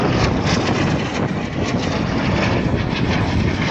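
Small display jets roaring past at an air show, a loud, continuous, broadband jet rush filling the whole stretch with no talk.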